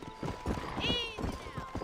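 Horse hooves clip-clop during a ride in the video game Red Dead Redemption, a few close thuds joined by a short whinny partway through.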